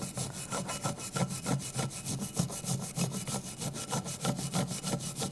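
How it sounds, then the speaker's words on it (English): A wire brush scrubs rust off the brake caliper bracket of a 2007-2013 BMW X5 during a rear brake job, giving steady rapid back-and-forth rasping strokes, close and fairly loud, with no talking. "Take the brake caliper bracket and a wire brush, just clean the area where the brake pads are gonna go."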